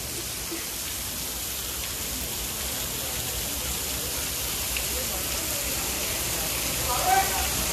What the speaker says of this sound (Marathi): पावसा जरा थांब थोडा वेळ.